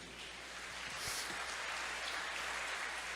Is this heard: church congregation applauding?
yes